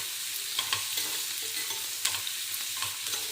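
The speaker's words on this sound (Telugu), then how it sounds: "గోల్డెన్ బ్రౌన్ వచ్చే వరకు వేయించుకోవాలి" Onions frying in a pan until golden brown for a tamarind chutney, a steady close sizzle broken by a few soft scrapes and stirring clicks of a spoon, with no talking.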